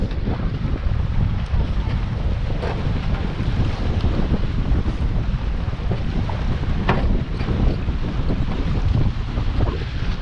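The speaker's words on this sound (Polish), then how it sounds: "Nasze jezioro jest bardzo wietrzne, w sensie często występuje tu fajny wiatr" Strong wind gusts over a mountain lake at a windsurfing and SUP school, roaring and buffeting the microphone with lapping water beneath, loud and constant with no speech.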